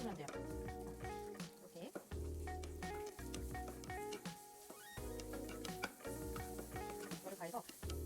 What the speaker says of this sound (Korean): 넣고 볶아주시는데 타지 않게 투명하게 볶는다고 생각을 해주시면 돼요.